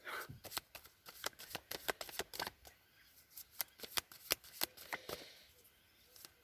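A deck of cards is handled, with rapid flicking and riffling card sounds in close, crisp bursts and a card drawn from it, with no talking.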